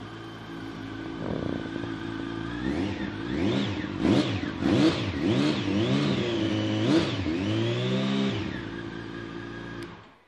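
A 2012 Yamaha FZ8 motorcycle engine fires up and revs repeatedly in sharp rising bursts, loud and close, then settles before cutting off.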